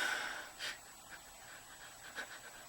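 A person imitates panting while crying, with a few short, breathy huffs spread over a faint steady background, close and quiet.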